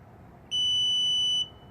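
A single sustained electronic beep from a Tesla Model 3 aftermarket power trunk, steady and piercing, lasting about a second over a quiet background hum.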